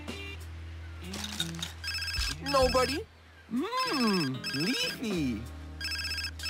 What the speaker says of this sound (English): I think you should answer your phone.